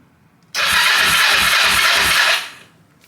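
A motorcycle engine starts with a short burst of starter cranking and a loud, close rumble, then cuts out after about two seconds.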